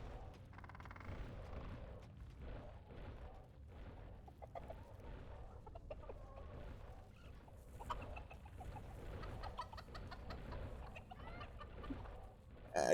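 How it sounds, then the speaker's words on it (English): Chickens cluck softly and intermittently in the dungeon-building video game Dungeons 4, faint game sounds and clatter mixing in around them, with no talking. "Chickens."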